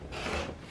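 Scissors or a rotary cutter slicing through a piece of quilt fabric in a brief, close, soft rasping stroke with no talking.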